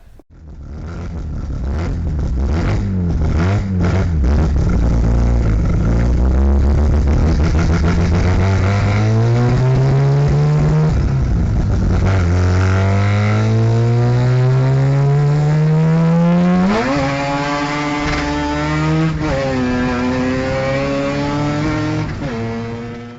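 Onboard a 600 hp Mazda RX3 race car with a 13B turbo rotary engine, the engine roars loud and close, revving up repeatedly through the gears with rising pitch sweeps and brief lifts between shifts.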